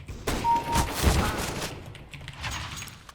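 Gunfire in Counter-Strike: Global Offensive, a burst of game shots in the first second or so, then fading noise and a faint background voice.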